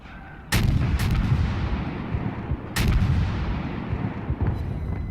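Tier 3 Russian cruiser Bogatyr firing its guns in World of Warships, two loud booming salvos a couple of seconds apart, each trailing into a long rumbling roar.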